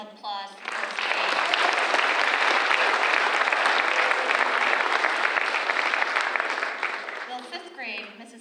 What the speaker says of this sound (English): One more round of applause for 1st grade.